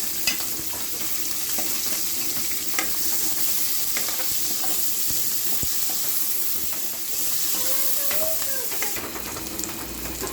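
Chopped onion, garlic and a little green chilli fry in a pan, a steady close sizzle and hiss with occasional stirring scrapes and small crackles running throughout, no talking.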